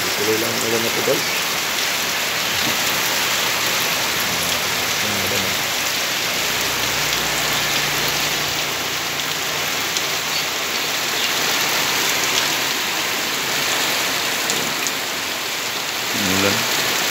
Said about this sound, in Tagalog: Tuloy lang ang ulan na ito guys.